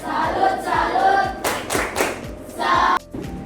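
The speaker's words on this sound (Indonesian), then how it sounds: "Tepuk salut untuk kelompok B" A classroom group gives a rhythmic salute clap for group B, bursts of several hand claps in quick clusters at close range, mixed with voices of children and a teacher talking.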